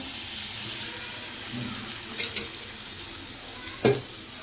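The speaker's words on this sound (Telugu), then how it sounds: "నేనైతే 2 టేబుల్ స్పూన్ అయితే ఆయిల్ వేసేసుకుంటున్నాను" Two tablespoons of oil heat in a pan for onion chutney, giving a steady, even sizzling hiss throughout, with a couple of brief utensil clinks near the end.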